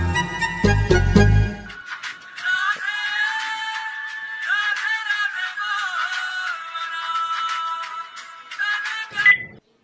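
A mobile phone ringtone plays a bright, looping electronic melody while someone calls a priest to book a havan ritual. It rings loudly and alone for about eight seconds after a brief burst of low rustling at the start.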